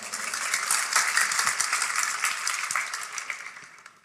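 A church congregation applauds in a dense, steady patter of many hands that swells early and then tapers off toward the end, with no talking over it.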